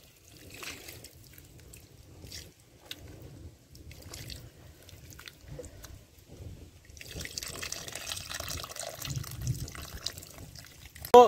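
Water poured into a pot of lake fish curry with brinjal and tamarind, a soft splashing and trickling that swells toward the end, fairly close and quiet, with no talk over it.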